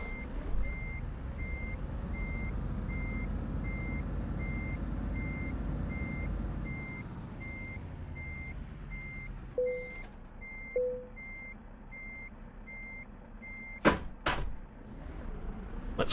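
A truck in the video game Euro Truck Simulator 2 sounds a long run of evenly spaced reversing beeps over a rumbling engine that later fades. A few short clicks and knocks follow near the end.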